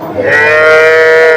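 A single loud cow moo at a cattle market in Palamaner, drawn out and steady with a rich harmonic tone, rising in after a brief quiet start and holding to the end.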